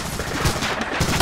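Gunfire on the Omaha Beach D-Day landing in Medal of Honor Allied Assault, a quick run of loud, close rifle and machine-gun shots over a constant roar of battle, with heavy thumps marking individual rounds.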